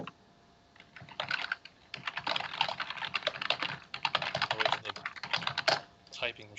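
Rapid bursts of computer keyboard typing, close and clear, with quick clustered keystrokes separated by short pauses and a faint voice in the background.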